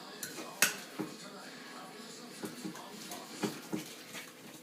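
A spoon stirs jalapeno popper filling of cream cheese, onions and cilantro in a bowl, giving a few sharp, close clinks and soft scraping knocks at an uneven rhythm over quiet background.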